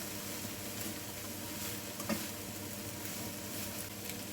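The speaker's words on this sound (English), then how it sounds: "I'm going to add vegetables and mix everything." Mixed vegetables sizzle quietly in a pan while being stirred, with a soft continuous fry and one small clink near the middle, no speech.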